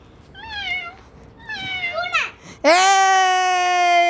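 A young child imitates a cat, giving a few short meows followed by one long, loud, sustained meow, close to the microphone with no other voices.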